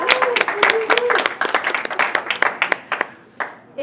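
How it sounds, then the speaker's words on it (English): A small audience gives a round of applause at a hospital event marking the first COVID-19 vaccine in North Carolina, close, uneven clapping of a few people that thins out, with voices talking over it. "we got to give a round of applause"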